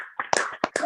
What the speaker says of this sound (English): give him a much deserved applause